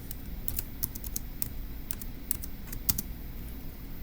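Keys clacking on a computer keyboard in quick, irregular bursts of typing, close and steady, with no voices.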